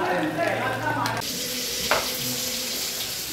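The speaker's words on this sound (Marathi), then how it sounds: "आता आम्ही करतोय कोलबी फ्राय" Prawns (kolambi) frying in oil outdoors, a dense steady hiss of sizzling with a brief sharp crackle partway through, faint voices in the background.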